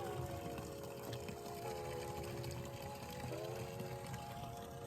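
Spring water running from two pipe spouts into a 7-gallon jug, a steady faint outdoor pour and trickle with a rising filling tone throughout.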